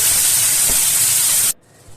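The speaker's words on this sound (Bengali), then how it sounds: "প্রথমে গোটা মশলা কিছু ফোড়ন দিয়ে দিয়েছি" Whole spices sizzle in hot oil as a tempering for a chicken dish, producing a loud, dense hissing spatter that cuts off abruptly about halfway through and leaves quiet behind.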